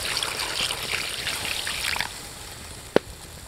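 Water trickles and splashes steadily as about one and a half glasses are poured over duck meat in a karahi on a village stove, the pour thinning out after two seconds, followed by one sharp knock.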